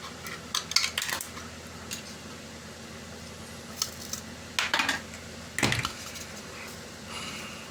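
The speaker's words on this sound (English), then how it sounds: "just hold it with the snips fairly tightly and just flex it and it will break off." Sharp metallic clicks from snips breaking small model parts off the sprue of a Ffestiniog port hole carriage kit, a few isolated snaps spaced several seconds apart over a faint steady background hum.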